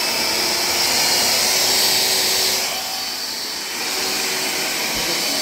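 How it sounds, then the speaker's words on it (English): A cordless battery-powered vacuum cleaner runs on boost, a loud steady high-pitched whine with a brief dip in pitch and volume midway before it returns to full power, close and alone. "let's show how this vacuum works here"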